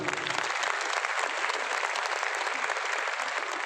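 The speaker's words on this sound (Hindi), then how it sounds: "एक करेंगे के लिए ताली बजाइए जोरदार।" An audience claps loudly and steadily in a hall for several seconds, a dense continuous roar of hands without pauses or talk over it.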